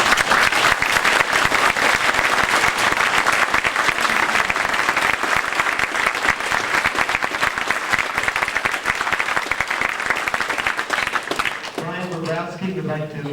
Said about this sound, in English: Let's give them both a big applause again.